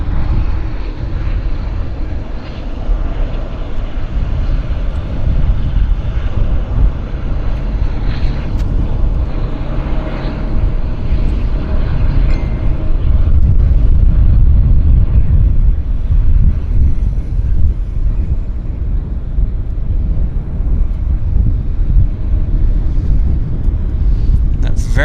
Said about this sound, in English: Very nice landing from Narita Airport to Vancouver in almost a record time, sub 8 hours